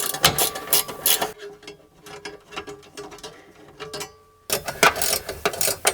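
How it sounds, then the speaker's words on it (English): Swivel ratcheting wrench removing bolts while installing Ohlins coilovers on an R33 Nissan Skyline GT-R, rapid metallic clicking in loud bursts at the start and end with quieter ratcheting between. "I've got a swivel ratcheting wrench, and it's making the job really easy"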